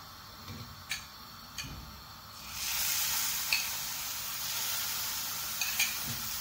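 Sheer khurma seviyan with cream and sugar stirred in a pan, giving a soft scraping and bubbling hiss and a few sharp spoon taps against the pan, close up, with no speech.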